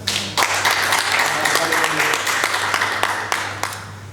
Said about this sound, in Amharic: አጨብጭቡ ለእግዚአብሔር።